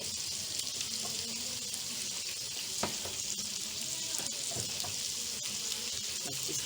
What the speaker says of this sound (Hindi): बस इसको मैं फ्राई करूँगी।